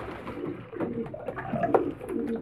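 Pigeons coo close by, soft rolling low calls overlapping steadily with no talk.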